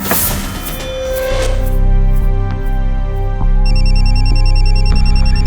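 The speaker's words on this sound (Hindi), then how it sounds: "फोन आ गया।" A telephone rings with a steady electronic warble that sets in partway through, loud and close, layered over a dense, sustained dramatic music score.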